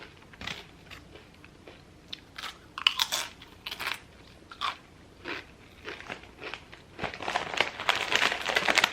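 Cool Ranch Doritos chips crunched close up in repeated bites and chewing, crisp crackly bursts in an irregular rhythm, growing denser toward the end with no talking.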